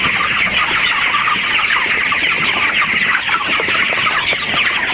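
A dense, continuous chorus of many 27-day-old broiler chickens clucking and chirping together inside a poultry farm, loud and steady throughout.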